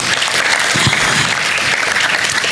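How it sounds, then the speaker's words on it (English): An audience's loud, dense round of applause for a chief guest at an interschool competition on sustainable development, steady clapping filling the whole moment without a pause. "I just request all of you to just give ma'am a huge round of applause"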